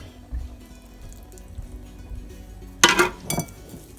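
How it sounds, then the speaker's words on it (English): Milk poured into an Oreo cream topping: a brief liquid splash and clink near the end after quiet, close and fairly soft. "I'm going to add a bit of milk"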